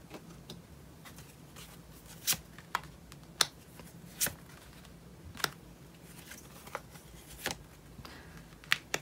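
Tarot cards being shuffled and drawn during a reading, with soft continuous riffling broken by about eight sharp card snaps and slaps at irregular intervals, close and fairly quiet with no talking.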